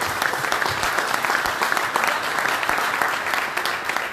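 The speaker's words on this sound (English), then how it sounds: "Ladies and gentlemen, round of applause, everybody." A crowd at a Crazy Jeans soapbox launch event gives a round of applause, many hands clapping in a dense, even wash that holds steady for several seconds.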